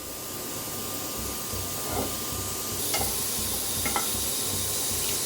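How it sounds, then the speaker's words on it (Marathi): Onion roasting lightly in a kadhai over a gas flame, a soft steady sizzle with a few stirring scrapes and taps, no talking. "कांदा हलकासा भाजत आलेला आहे"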